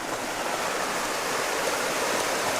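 A small river rushes along steadily outdoors in cold, stormy weather, a dense, even hiss of flowing water close by with no voices.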